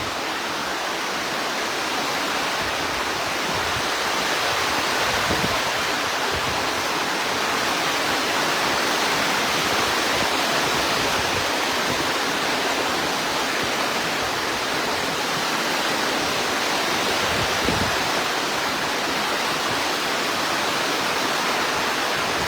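Strong wind driving heavy rain during a morning storm in Maros, Indonesia, a dense steady roar of rushing noise that fills the whole clip without a break, close and loud, with no voices.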